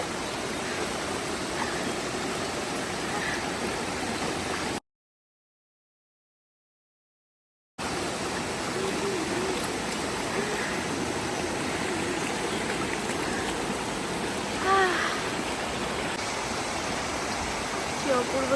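A waterfall in Victoria Park, Kreuzberg, Berlin, gives off a constant broadband rush of falling water, loud and unbroken apart from a short gap, with a few faint voices in the background.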